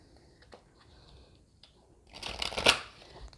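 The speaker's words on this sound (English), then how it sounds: "we'll just give them a shuffle" A deck of Unicorns Oracle cards is shuffled by hand, a few light taps and slides at first, then a brief riffling flutter of cards near the end, close and fairly quiet.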